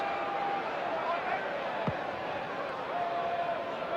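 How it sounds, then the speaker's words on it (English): A football crowd of just over 24,000 at Upton Park for West Ham United v Manchester United in 1996 makes a steady, distant murmur. A commentator talks over it the whole time. "Very healthy-looking crowd here at Upton Park tonight"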